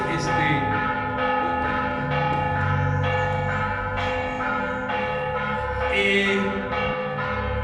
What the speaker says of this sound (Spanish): puso las campanas